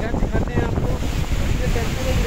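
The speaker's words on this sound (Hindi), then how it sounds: "ये देखिए ये वेव्स आती हैं और ये वेव्स ही जाती हैं" Ocean waves washing in and out at a beach beside a temple in Diu, a continuous rushing surf with heavy wind buffeting the microphone.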